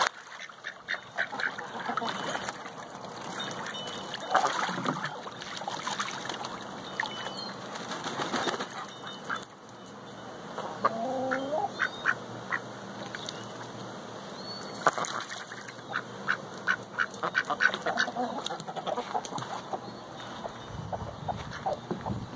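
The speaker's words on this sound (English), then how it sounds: "we can go back to the ducks now." Ducks quack repeatedly in a busy outdoor chorus, with bursts of wing flapping and other bird calls mixed in, fairly close and steady throughout.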